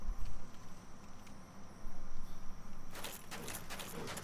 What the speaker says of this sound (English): Now that noise you hear is actually the rats that are in here.